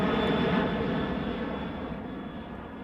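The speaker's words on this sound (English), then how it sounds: "I shouldn't try to talk over the plane noise." Steady, loud droning of an airplane's engines inside the cabin during the video game Remember11: The Age of Infinity, a continuous broadband roar that fades slightly over a few seconds.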